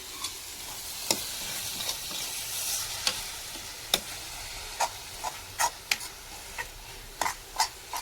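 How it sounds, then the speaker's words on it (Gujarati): A dish cooking in ghee is stirred in a pan, with a steady close sizzle underneath and a dozen or so sharp spoon scrapes and clicks spaced irregularly across the frying. "હવે પાછું આપણે એને હલાવી નાખશું"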